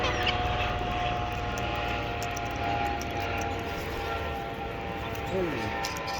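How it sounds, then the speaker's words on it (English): A helicopter passes overhead, its steady rotor and engine drone filling the background as a continuous rumble, with a voice speaking briefly over it. "Ooh, helicopter."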